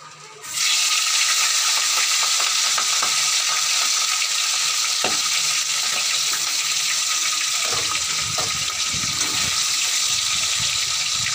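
Fish frying in hot oil on a home kitchen stove gives a loud, steady hiss that starts abruptly and holds for the whole stretch, with faint clatter underneath and no talking.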